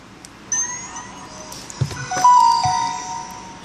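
Startup chime of a Samsung Galaxy S III smartphone powering on after its LCD module was replaced, a short melodic electronic tone sequence at close range with faint handling clicks, no talk.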